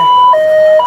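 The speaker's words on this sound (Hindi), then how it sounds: "देख सकते हैं पीछे एम्बुलेंस जा रही है" An ambulance siren wails loudly with a steady two-tone alternating pitch, close by at a crowded farmers' protest site on the Shambhu border.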